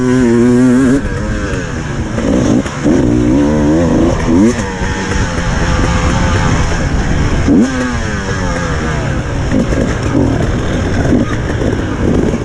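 Two-stroke dirt bike engine on a motocross track during a woods endurance race at Hawkstone Park, revving loudly and continuously with rising and falling pitch, close up throughout.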